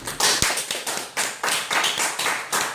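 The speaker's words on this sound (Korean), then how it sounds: "박수." A small group claps at the close of a professor's lecture, giving uneven bursts of hand claps in a loose rhythm, close and fairly loud, with no talk over it.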